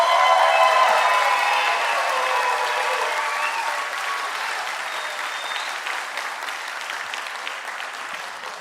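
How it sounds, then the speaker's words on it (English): Graduation audience applauding the class of 2025 at a career and technology center ceremony, a sustained wash of many hands clapping that starts loud and slowly thins out over several seconds, with a few faint voices in the crowd. "one last round of applause for the class of 2025."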